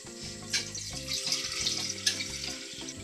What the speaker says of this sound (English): So when the water has been cooled, we pour it into the glass container.